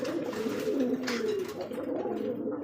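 A light-coloured pair of racing pigeons gives low, soft, rolling coos, close by over a steady background hum.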